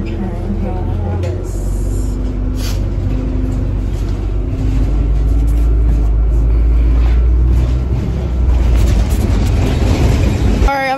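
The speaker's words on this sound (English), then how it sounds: "That is my bus." A Philadelphia city bus pulls in and drives off, its low engine rumble and road noise loud and steady throughout, with a voice talking nearby over the traffic.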